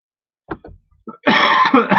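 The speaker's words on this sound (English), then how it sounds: "I do cough a bit in these few days" A short, harsh cough bursts out close up after a few faint throat noises, one heavy rasping cough with a brief follow-up.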